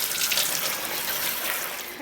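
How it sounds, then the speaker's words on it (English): Water drains from a kitchen sink in a steady, continuous rushing gurgle, close and fairly loud throughout with no talk over it. "as that's draining in my sink here"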